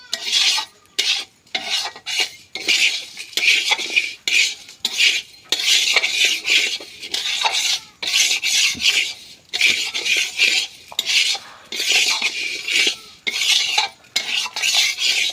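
Rice for biryani is fried and stirred in a pan, making rhythmic, fairly loud scraping strokes of a spoon against metal in repeated bursts with brief pauses, over a faint sizzle.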